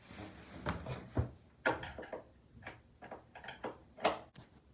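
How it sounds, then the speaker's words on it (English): Cabinet doors being taken off a bathroom vanity: a string of sharp wooden knocks, clicks and rattles at irregular intervals, close by and fairly quiet, with no talking. "now that the doors have been removed"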